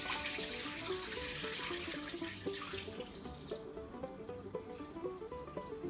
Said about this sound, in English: go ahead and drain that water off